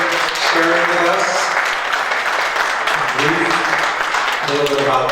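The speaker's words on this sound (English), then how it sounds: "Let's give all of our students a big round of applause" An audience applauds students after a student presentation. A dense wash of clapping runs steadily and loudly throughout, with voices audible alongside it.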